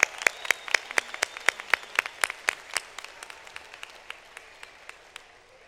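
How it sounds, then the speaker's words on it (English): At a university public health commencement ceremony, a small audience claps in a sparse, distinct patter of individual hand claps that thins and fades out over several seconds. "One more round of applause for everybody."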